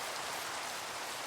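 Rain falling in the Minecraft video game makes a steady, dense, even hiss, a constant wash of rain noise with no voices over it.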